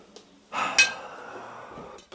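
A plate set down on a kitchen scale: one short, close clatter with a faint ringing tail, then quiet room tone.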